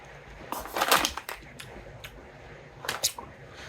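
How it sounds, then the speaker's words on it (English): A paper bag crinkles and rustles around a can of King Cobra malt liquor in a few close, sharp bursts, with quieter gaps between them. "Got to get them all wrapped up in your paper bag."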